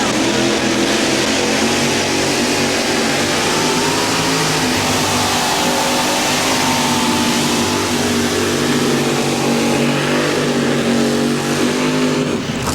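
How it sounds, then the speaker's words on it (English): Mini rod pulling tractor known as the Sting, in the USHRA 1850 class at a 1994 tractor pull in Bowling Green, Ohio, roars loudly at sustained high revs for the whole run, a dense unbroken engine howl. "here he comes now with that tractor known as the Sting, Roger WYSONG."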